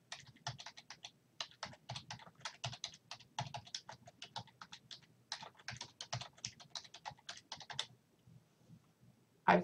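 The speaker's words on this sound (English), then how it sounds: "I can apply my verb and then finish typing the rest of this learning objective." Rapid, uneven typing on a computer keyboard, close and fairly quiet, with bursts of key clicks separated by brief pauses and a final louder tap at the end.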